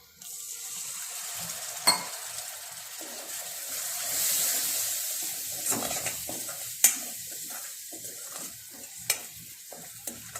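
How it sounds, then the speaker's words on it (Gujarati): Masala spices roast in a pan for a green val bean curry, giving a low sizzle under repeated spoon scrapes and sharp clinks against the pan, close and fairly quiet. "હવે મસાલા સારી રીતે આપણે શેકી લઈશું"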